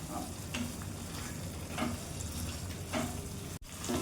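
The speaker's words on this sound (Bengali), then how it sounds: "রুই মাছটা একটু মশলার সাথে ভালোভাবে আমি একটু হালকা করে কষিয়ে নিলাম" Pieces of fried rohu fish being sautéed with masala in oil, giving a soft continuous sizzle with a few gentle stirring scrapes, fairly quiet and close.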